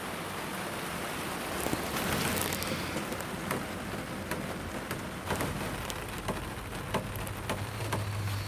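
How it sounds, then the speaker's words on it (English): Rain falls steadily with a broad hiss, scattered drops tapping nearby surfaces and a faint low rumble underneath. "but it started raining."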